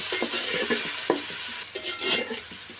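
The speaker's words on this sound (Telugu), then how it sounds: "ఇప్పుడు ఇందులో వేసేసుకున్నానండి. వేసుకున్న తర్వాత బాగా వేయించుకోవాలండి." Chopped onions fry in a pan for a mutton and cucumber curry, giving a steady close sizzle broken by the scrape and clatter of stirring.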